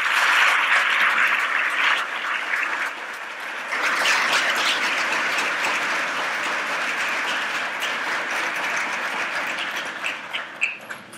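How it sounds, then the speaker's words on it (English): An audience at a medical research prize ceremony applauds the prize recipients, a loud, dense burst of clapping that dips briefly, swells again and thins out toward the end with a few scattered claps. "Please join me in welcoming a round of applause for the recipients of the 2019 Albany Medical Center"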